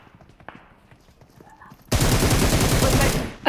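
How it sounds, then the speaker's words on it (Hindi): Gunfire in PUBG Mobile erupts suddenly after a quiet stretch of faint sounds, a loud, dense string of rapid shots that holds for over a second before breaking off. "और फिर और फायरिंग होती है और बंदे मारते हैं"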